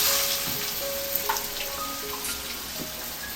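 Raw mango pieces sauté in hot oil with turmeric, asafoetida and curry leaves, giving a faint, steady crackling sizzle with a few soft stirring taps and no voices.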